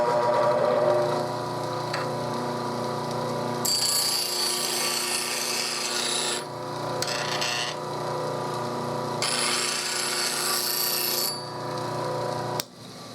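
A steel roughing gouge is pressed against a spinning bench grinding wheel, giving a continuous hum broken by several bright, hissing rasps of a few seconds each, close and loud.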